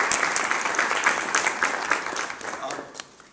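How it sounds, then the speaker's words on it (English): An audience at a college healthcare debate applauds, a dense burst of many hands clapping that starts full and gradually thins and fades, with a voice speaking over it. "Let's have a nice round of applause for"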